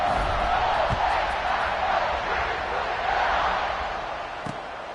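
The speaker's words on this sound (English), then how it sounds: "They're set to kick it off, and this crowd now ready to get behind them." A football stadium crowd at a Maryland game roars steadily at kickoff, a dense, sustained wash of cheering and voices that stays loud and continuous throughout.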